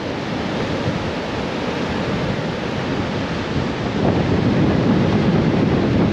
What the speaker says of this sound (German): wie ihr es am Meer sehen könnt, übelst am Winden.